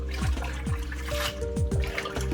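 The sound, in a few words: washing collard greens in water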